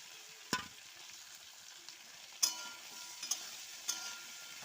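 Boiled peas and potato with tomato and ginger fry in a pan, a soft low sizzle broken by a few sharp clinks of a spatula against the pan.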